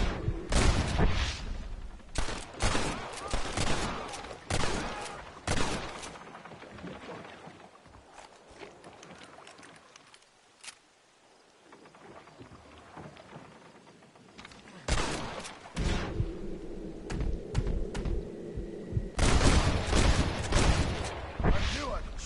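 Gunfire in the Western game Red Dead Redemption comes in loud bursts of rapid shots at the start and end, with a quieter stretch of footsteps and ambience in the middle; game voices talk between the volleys.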